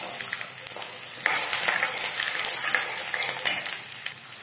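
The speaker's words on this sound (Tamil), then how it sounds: "பூண்டு ஒரு 2 நிமிஷம் நல்லா வதங்கட்டும்." Chopped garlic sautés in hot oil for a sambar, with mustard seeds already popped. The pan gives a steady, close sizzle with a sharp jump in intensity partway through and light stirring clatter.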